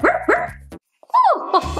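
Cartoon puppies from Paw Patrol bark in two quick yips, then after a short silence a longer whining bark and another yelp, loud and close.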